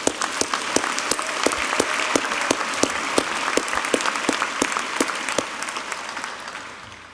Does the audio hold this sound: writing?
no